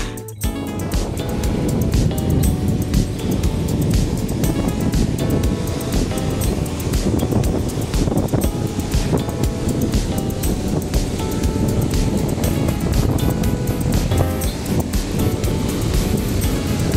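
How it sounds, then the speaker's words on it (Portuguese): Surf and wind at Itapuã beach in Salvador, Bahia: loud, continuous wash of breaking waves with blustery wind buffeting the microphone throughout, no talk. "Aqui aquela velha praia de Itapuã"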